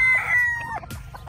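A rooster at a chicken farm in Tay Ninh lets out one loud, close crow, followed by a few softer clucks from chickens nearby.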